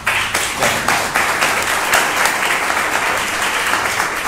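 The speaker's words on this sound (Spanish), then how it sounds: "un lindo aplauso" Audience applause after a book presentation by Patricio Pron, winner of the 2019 Alfaguara Prize, in Uruguay: dense, steady clapping from a crowd fills the room, loud and close, with no talk over it.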